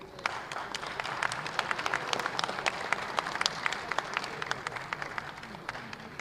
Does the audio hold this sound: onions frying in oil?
no